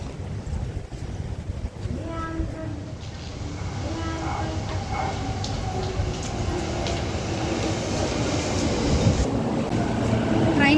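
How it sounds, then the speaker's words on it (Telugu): A train pulls into a station in Japan with a steady rumble and whine that grows gradually louder, while a voice speaks over the approaching noise. "ట్రైన్ వచ్చింది కదా"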